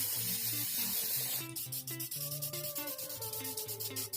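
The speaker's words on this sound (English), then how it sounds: "take everything outside and coat with matte black spray paint" Matte black spray paint hissing from an aerosol can onto foam outdoors, a steady spray at first, then broken into short repeated bursts.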